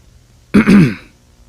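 A single sharp throat clearing, close and loud, following a moment of quiet and fading out quickly.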